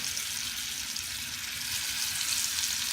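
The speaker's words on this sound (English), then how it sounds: "Now we will sear our lamb chops." Lamb chops sear in butter in a cast iron skillet with a steady, even sizzle and crackle throughout.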